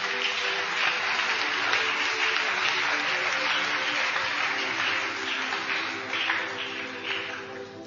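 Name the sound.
congregation applauding the word of God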